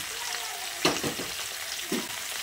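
Cut drumsticks and eggplant going into a pan of frying potatoes, a soft continuous sizzle punctuated by two brief clattering drops of vegetables, heard up close without speech.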